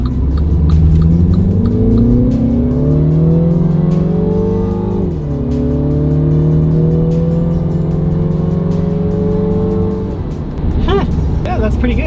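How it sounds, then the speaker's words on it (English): An all-wheel-drive Mini Clubman S accelerates hard in sport mode, the engine note climbing through the gears with a brief dip at each shift, loud and close from inside the cabin with road rumble beneath. "let's put this into sport mode here. Let's see what sport mode's like with an all-four Mini Clubman S."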